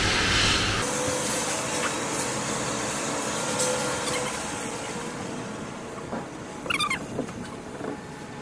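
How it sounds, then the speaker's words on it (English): An industrial paint baking machine runs inside a factory, giving off a loud, steady broadband roar with a few faint clanks and squeaks late in the clip, and no voices. "This is a baking paint machine."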